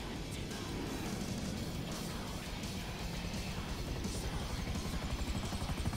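A helicopter flies low under bridges during a Grand Theft Auto V freight-steal stunt mission, its rotor and engine a loud, steady, unbroken roar that fills the whole stretch.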